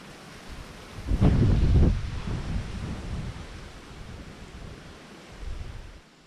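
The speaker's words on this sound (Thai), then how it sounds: "ลมมาจนเต็มจนเต็มเลย" Strong wind gusts buffet a microphone outdoors on a mountain in Laos, a loud roaring blast early on that eases into a steady rushing drone, then swells again before cutting off.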